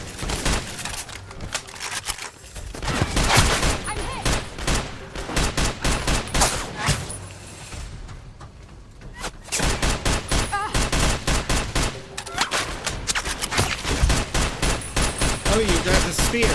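Gunfire in a modded Fallout: New Vegas, dense rapid bursts of shots rattling almost continuously with brief lulls, loud and close, like sustained automatic fire.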